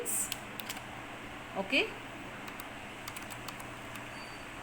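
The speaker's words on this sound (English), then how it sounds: "Now you will start typing a letter to your friend." Rapid clicking of keys as a letter is typed on a computer keyboard into a word-processor document, steady and close, with a brief spoken word over it.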